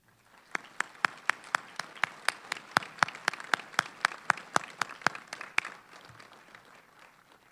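An audience at a fall 2013 NC State electrical and computer engineering graduation ceremony applauds as a student speaker comes to the stage, a burst of many sharp, evenly paced claps that fades out after about six seconds.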